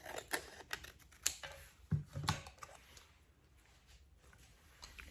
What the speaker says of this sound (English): which I will just cut with a pair of scissors